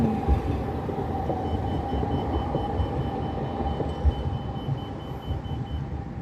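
A tram passing by near a park, heard as a steady low rumble with faint metallic ringing tones, moderately distant and continuous for several seconds.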